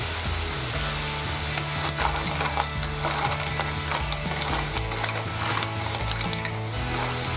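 Mussels frying in butter over maximum heat in a covered frying pan give off a steady, continuous sizzle with faint clicks and rattles throughout, with no voices.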